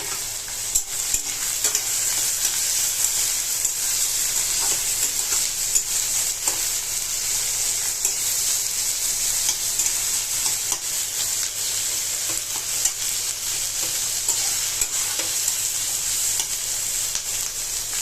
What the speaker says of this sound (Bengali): এটাকে একটু ফ্রাই করতে দিতে হবে।